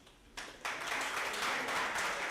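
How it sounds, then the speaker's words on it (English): Guests at a youth soccer club banquet break into applause, starting faintly and then swelling into steady, close clapping that carries on for about two seconds with no talking over it. "we'll give you a round of applause at the end"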